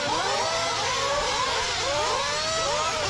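Several RC8B4.1 nitro buggies fitted with Protek Samurai RM.1 engines race on a track, their high-pitched engines whining and sweeping up and down in overlapping revs, with steady distant crowd and track noise underneath.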